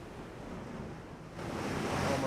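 Ocean waves in the naval game Ultimate Admiral Dreadnoughts under calm winds and overcast skies, a low steady wash of water that swells louder partway through, with no talk.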